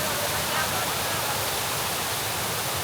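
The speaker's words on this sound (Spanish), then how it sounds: "La Fuente del Turia es bastante turística, está ubicada en esta plaza, la Plaza de la Virgen" Water splashes steadily in the Turia Fountain on Plaza de la Virgen in Valencia's historic centre, a dense, even hiss of falling water filling the whole stretch without pause.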